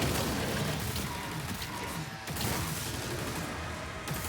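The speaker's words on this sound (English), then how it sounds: "Single pulse shot." Single pulse shots fire in rapid succession from a weapon in Doom: The Dark Ages, inside the Sentinel Barracks. The blasts are dense, loud and nearly continuous, with crashing impacts and no talking.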